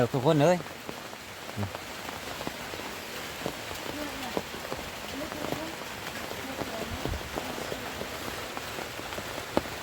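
Rain falls steadily on a hard surface over flooded rice fields, with individual drops clicking close by, after a brief voiced sound at the very start.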